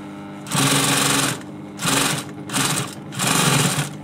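Sewing machine stitching an upholstery cushion cover, running in four loud, sustained bursts separated by short pauses, close and alone with no talk.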